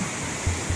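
Fast-flowing mountain water on the Kedarnath trek roars in a brief, steady burst with a couple of low thumps.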